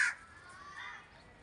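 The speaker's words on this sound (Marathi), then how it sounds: "बघा कावळे जमा व्हायला लागलेत" A single sharp crow caw opens the scene as crows gather where food has been scattered for birds, then only faint outdoor background follows.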